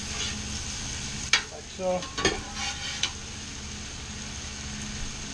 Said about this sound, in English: put some oil on this and get my fish on there, get that going